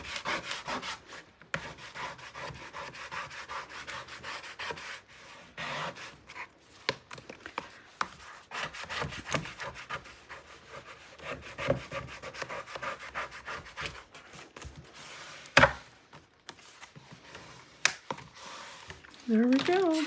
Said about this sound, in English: let's get inside and we're going to burnish